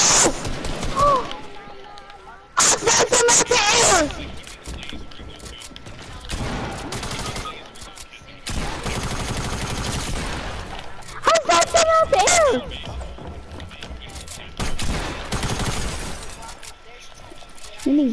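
Sniper rifle shots in a shooter video game, loud sharp cracks in a few clusters with shattering impacts, under frequent excited talking between players.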